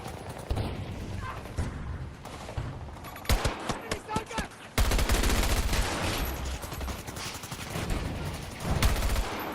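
Sustained automatic PP-29 fire and other gunshots in a Battlefield 6 multiplayer match, dense loud bursts with scattered single shots, then a heavier continuous barrage in the second half.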